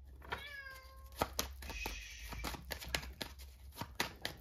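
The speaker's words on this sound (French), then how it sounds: "il y a mon chat" A cat meows several times in a row close by, its rising cries standing out clearly over a quiet indoor background with a few soft rustles and taps.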